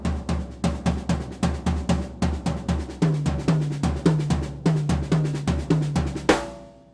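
A fast seven-stroke linear fill is played on a drum kit, with rapid, evenly spaced hits and shifting accents between drums repeating for about six seconds, ending in a crash-like final hit that rings out.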